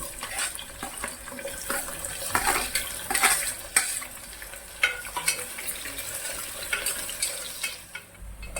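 Onions frying with spices and green chillies in hot oil for boti curry crackle and sizzle up close, with uneven bursts and scraping stirs from a spoon in the pan.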